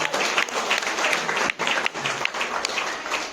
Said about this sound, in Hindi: तालियां बजा दो जबरदस्त।